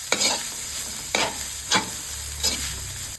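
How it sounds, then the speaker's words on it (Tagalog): Onion and garlic sautéing in oil for chicken pastil, a steady sizzle broken by four sharp scraping stirs of a spatula against the pan, close and clear with no talk. "igisa po natin ang sibuyas at bawang"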